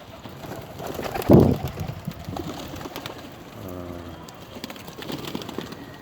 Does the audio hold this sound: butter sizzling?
no